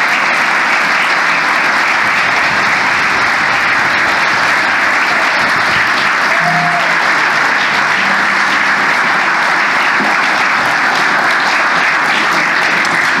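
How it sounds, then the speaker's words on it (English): Church congregation applauding First Communion children at a Maundy Thursday service, a sustained, even wash of many hands clapping that stays loud throughout. "we're just going to give you a round of applause to show our celebration with you"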